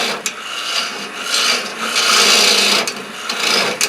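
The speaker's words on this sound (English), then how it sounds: "then we'll just start in here with our bowl gouge" Bowl gouge cutting into the inside of a wooden bowl on a lathe, a steady close rasping, scraping shave that swells and eases over several passes with no talking.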